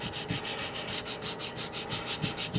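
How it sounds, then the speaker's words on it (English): Echinoid fossils set on a multi-block are wet sanded by hand with a small folded piece of 320 grit sandpaper, giving a steady, quiet rhythmic scrubbing of abrasive strokes heard alone at close range. "I'm just going to start sanding."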